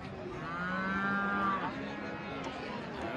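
A dairy cow moos at a busy livestock market, one long drawn-out low call that rises and fades, with crowd noise around it.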